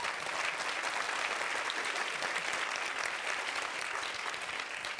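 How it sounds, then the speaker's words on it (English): Sustained applause from an audience, dense and even clapping that fills the space without letting up. "yes, take your applause"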